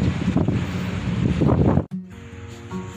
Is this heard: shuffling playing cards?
no